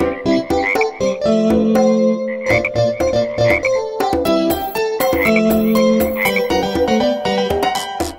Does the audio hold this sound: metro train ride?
no